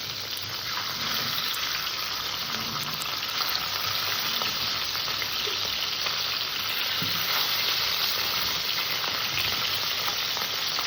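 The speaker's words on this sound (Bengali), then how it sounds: "মাছগুলো আমি সুন্দর করে একটু কড়া করে ভিজে নেব" Loud, steady sizzling of small fish frying in hot oil in a pan, a dense continuous crackle with occasional small pops, no voices.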